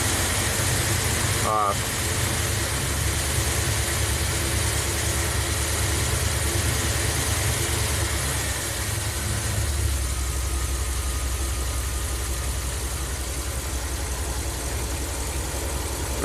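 A Ram camper van's engine runs steadily with the RPM raised by hand, a low continuous rumble under a brief spoken word, dropping slightly lower partway through.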